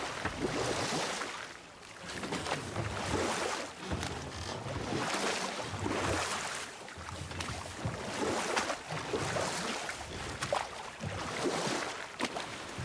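Oars splashing and creaking as a boat is rowed across water in God of War, rhythmic strokes repeating every couple of seconds over a soft wash of waves and wind.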